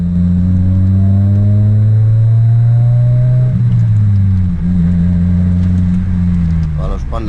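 Car engine idling then revving in winter, a loud, close, steady droning hum whose pitch rises and drops in smooth sweeps, with a brief shift midway and faint clicks near the end.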